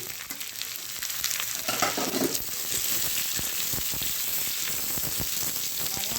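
Ginger, garlic and green chilies sizzle loudly in hot oil in a pan, a dense crackling hiss with a brief surge as ingredients go in and scattered stirring clicks.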